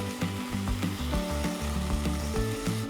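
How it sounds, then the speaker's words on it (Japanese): Loud, steady sizzling and frying as mixed sauce goes into a hot pan of napa cabbage, bamboo shoots, shiitake and meat, with a dense hiss running throughout and occasional scraping clatter. "ここで合わせ調味料入れていきます。"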